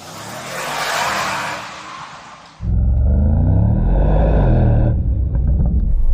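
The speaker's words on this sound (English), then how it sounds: "you'll hear the V8 engine with a little mix of AMG electrification performance sound" A Mercedes-AMG GT63 V8 accelerates, first a broad rushing roar that swells and dips, then a sudden loud, deep engine rumble with rising tones that holds steady and close.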